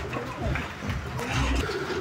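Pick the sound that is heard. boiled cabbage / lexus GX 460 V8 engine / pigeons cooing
pigeons cooing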